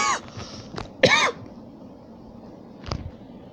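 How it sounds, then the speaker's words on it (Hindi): A man coughs while streaming a mobile war strategy game: a sharp cough at the start, a louder, harsher burst about a second later, then a faint throat clear near the end, with quiet background between. "तो गाइस मेरे को खांसी आ गया यार"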